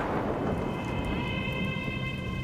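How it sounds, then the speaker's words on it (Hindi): Steady rain pours throughout with a low thunder rumble beneath, while a few faint tonal lines ring above the downpour in an unseasonal May storm indoors-adjacent setting. "ये बिजली काहे कड़क रही है बे? मई के महीने में बरसात?"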